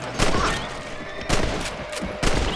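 Rifle shots fired at rabbits in the Red Dead Redemption video game: three sharp, loud reports spaced about a second apart, each followed by a short rumbling tail over steady game ambience.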